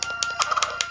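Chickens clucking in the Zelda A Link to the Past video game, a series of short, bright, repeated chiptune-style cluck bursts at an uneven rhythm, close and fairly loud with no talk.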